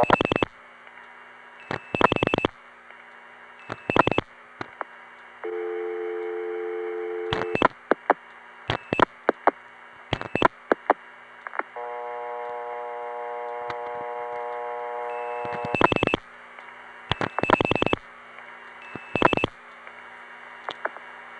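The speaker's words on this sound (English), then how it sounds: "On that, I'll dial 9 and my mother's number." A 1976 crossbar PBX telephone tie-line, dialed with 9 and then an outside number. Sharp clicks and short tone bursts come in uneven groups over a steady line hum, broken by longer stretches of multi-tone signaling.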